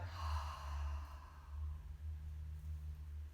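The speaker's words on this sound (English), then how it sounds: "Breathe in, and breathe out." Slow, steady breathing in and out during a kids' yoga session, with a soft, audible exhale near the start over a low, continuous room rumble.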